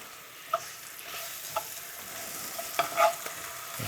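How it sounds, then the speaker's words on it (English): Garlic and chilies sizzling in hot oil in a pan for salt and pepper chicken, a steady soft frying hiss with a few small pops and stirring clicks, with no voices. "when chili hits hot oil, that's amazing."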